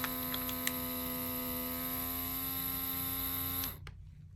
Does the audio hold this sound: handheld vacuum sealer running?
yes